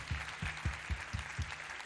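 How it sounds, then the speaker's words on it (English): Applause for the chief guest at a university graduation ceremony, a broad crowd clapping with a few heavier, rhythmic claps thumping out at regular intervals near the microphone, steady and sustained throughout. "Can we join up our hands to clap for the chief guest?"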